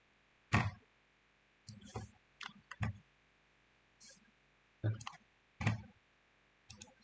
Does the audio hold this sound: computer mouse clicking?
yes